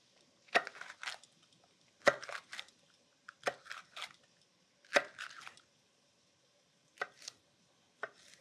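Knife chopping leftover mashed-potato soup ingredients on a cutting board, in clustered bursts of sharp, close taps with short pauses between, followed by two isolated single chops near the end; no talking.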